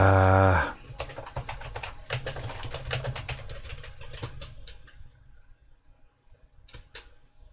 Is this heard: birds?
no